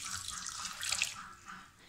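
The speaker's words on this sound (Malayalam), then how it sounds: "ഇനി ആവശ്യത്തിന് വെള്ളം ഒഴിച്ച് കൊടുക്കുന്നുണ്ട്." Water pours into blended beetroot and sugar for lemonade, a soft, steady splashing stream lasting a couple of seconds, faint and with no talking.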